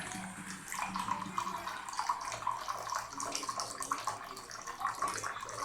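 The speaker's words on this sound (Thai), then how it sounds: "ติดแล้วปุ๊บผมเทน้ำนี้ทิ้งเลยครับ" Water pours out from a Panasonic TK-AS45 alkaline water ionizer, a soft continuous splashing stream with irregular drips and gurgles, fairly quiet and close.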